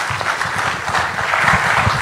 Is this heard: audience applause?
yes